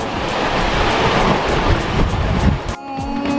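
Strong wind and rushing ocean waves roar steadily aboard a sailboat running dead downwind on an Atlantic crossing, with poled-out genoa and mainsail. The roar is loud and continuous, then briefly drops away near the end.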